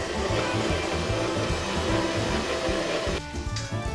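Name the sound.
KitchenAid stand mixer kneading dough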